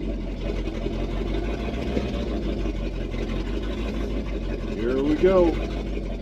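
A 1979 Chevrolet C20 square-body truck with a 454 V8 runs steadily on its first drive in 13 years, a continuous mid-low engine rumble with a brief louder surge near the end, under a short spoken line.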